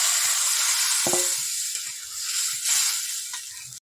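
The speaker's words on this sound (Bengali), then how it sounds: "মশলাটা হয়ে গেছে, ডালটা এবার দিয়ে দেব।" Dal poured into a sizzling spice mix in a hot pan for Bengali cauliflower lentils, giving a loud steady hiss with a sharp splash near the start and brief stirring clatter, no talking.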